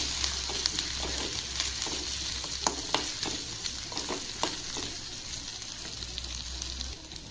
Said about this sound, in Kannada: ಬೆಳ್ಳುಳ್ಳಿ ಸ್ವಲ್ಪ ಕೆಂಪಾಗಬೇಕು, ಅಲ್ಲಿವರೆಗೂ ಫ್ರೈ ಮಾಡ್ತೀನಿ.